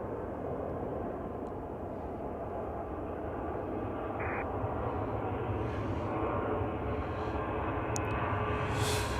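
A United Airlines Boeing 737 jet departs Chicago O'Hare for Las Vegas, its engines a steady, moderately distant roar that holds constant for about nine seconds with no talking.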